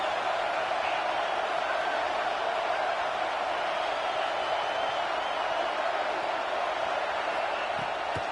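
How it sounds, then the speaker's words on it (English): Stadium crowd noise from the College Football 26 video game forms a constant, dense wash of cheering throughout, moderately loud and unbroken, without distinct voices. "Big third down as the crowd gets behind this defense."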